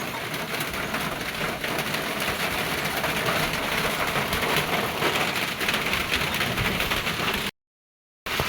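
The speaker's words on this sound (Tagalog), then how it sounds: "Malakas po ang ulan." Heavy rain pours down steadily, a dense loud hiss of drops hammering a surface, broken only by a brief moment of silence near the end.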